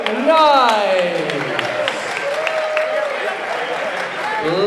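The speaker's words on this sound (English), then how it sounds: "one more round of applause for your National Squash League champions, the New York Knights." An arena audience applauds the National Squash League champions, the New York Knights, with steady clapping and cheering that holds throughout while an announcer speaks over it.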